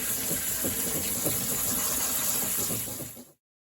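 Water rushes steadily off rinsed canned beans into a sink, a close, continuous splashing gush that cuts off abruptly near the end.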